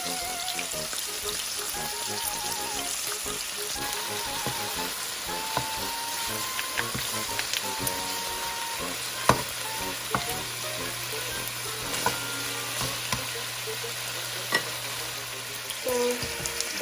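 Dried milkfish, daing na bangus, frying in oil in a pan, a steady close sizzle with occasional sharp pops and clicks, with some faint tonal background sound underneath.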